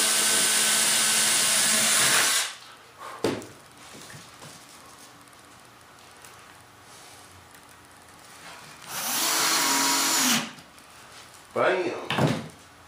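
Power tool cutting into an F-18 wing mold in a workshop, a loud steady whine for a couple of seconds, a long quieter gap, then another sustained cut and a few short bursts, close up.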